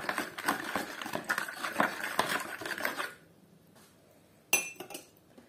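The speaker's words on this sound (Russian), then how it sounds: "Размешиваем." A utensil stirs egg, salt, sugar and warm milk in a bowl for a Tatar apple pie, giving rapid, close metallic clinks and scrapes for about three seconds. Quiet follows, then one last sharp clink.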